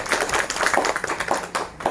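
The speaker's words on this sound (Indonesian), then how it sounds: "Makanya tepuk buat kita semuanya." An indoor audience at a motivational leaders' meeting claps together in a dense burst of applause. The sound is loud and steady and briefly dips near the end.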